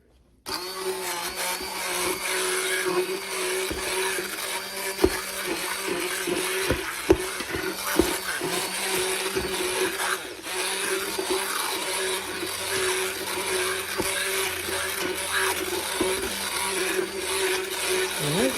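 A blender whirs continuously at high speed, pureeing spinach for saag lamb, its motor loud and steady from start to finish with brief shifts in pitch as the contents churn.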